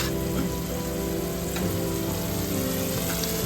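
Chopped onions and curry leaves fry in hot oil for a Kerala-style soya and Chinese potato ularthu, a continuous close crackling sizzle with faint scraping from stirring, no voices.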